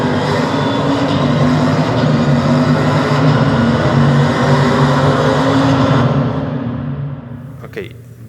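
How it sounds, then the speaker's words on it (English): A car driving into a tunnel, with a loud, steady engine and road roar that carries reverberant echo, then fades and thins out over the last couple of seconds. "I think that just by the sound you can hear the car getting inside a tunnel."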